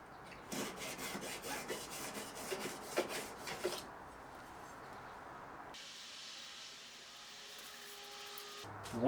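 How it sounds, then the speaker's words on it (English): A steel rule is rubbed along the edge of a collectible hand plane blade to remove the burr. It makes a close series of rhythmic rasping strokes for about four seconds, followed by a faint steady hiss. "To remove that burr, we just do exactly what we did before with the steel rule, this time just for 3 seconds."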